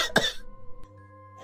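A single sharp cough bursts out up close, followed by a brief trailing exhale and a quiet tonal background.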